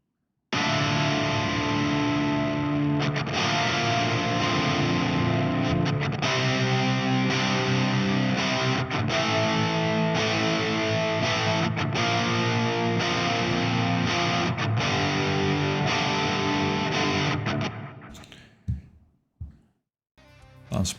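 Drop D rhythm guitars through a Marshall JCM 900 on channel B, with delay and reverb, chug heavily in tight distorted riffs with rhythmic stops, then cut off near the end as the delay tails ring out into near silence.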